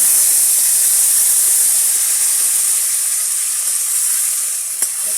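Paneer and capsicum fry in a pan for paneer 65, producing a steady close hiss and sizzle that fades slightly toward the end, with a faint tap near the close.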